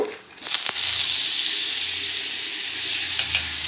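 Butter sizzling in a hot pan while being stirred: a continuous close bright hiss, with brief scraping stir strokes near the start and end, and no talk.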